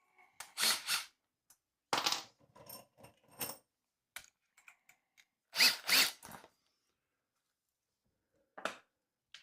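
Screws driven in with a cordless drill during a build for a pet enclosure, several short close bursts of whirring separated by pauses, fairly loud and with no talking.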